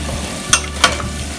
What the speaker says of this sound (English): Heat the oil on slow fire and also cook the steaks on slow fire.